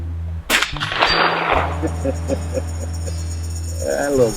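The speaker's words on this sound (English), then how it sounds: "I love whacking that gong." A rifle bullet in .300 Blackout from a Ruger American Ranch Rifle strikes a steel gong, giving one sharp clang that rings on as a faint metallic tone. A short voice follows near the end.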